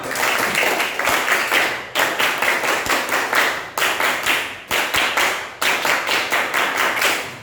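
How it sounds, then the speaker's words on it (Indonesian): A class of sixth-grade pupils claps together in a patterned rhythm, fast bursts of claps broken by short pauses, loud and close in the classroom with no talking. "Yuk, tepuk tangan."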